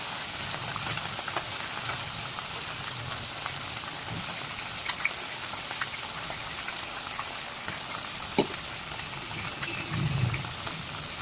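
Tangra fish fry in smoking-hot mustard oil, giving a steady, dense crackle and hiss with occasional louder pops, heard alone without voices.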